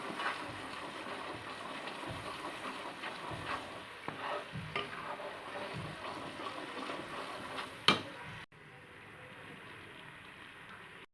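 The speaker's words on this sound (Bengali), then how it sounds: "এরকমভাবে অনবরত নেড়ে যাবে।" Laddu mixture being stirred nonstop in a pan, a scraping, sizzling swish with repeated strokes of the spoon against the pan, a sharp knock near the end before a quieter sizzle carries on alone.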